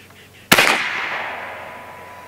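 A Challenger Pro 357 PCP air rifle fires a slug: one sharp, loud crack close by, followed by a ringing tail that fades over about two seconds.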